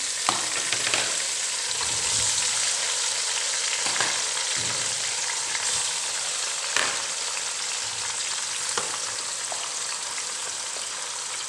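Potatoes dropped into hot oil with golden fried onions give a dense, steady sizzle and crackle throughout, with a few stirring scrapes and clinks.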